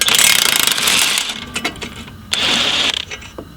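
A wrench works a bolt loose on a Ford Fiesta ST front strut, giving bursts of quick metallic ratcheting clicks separated by short pauses, close and fairly loud, with no talking.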